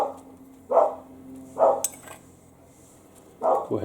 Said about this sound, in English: The dogs are going to go mad in the backyard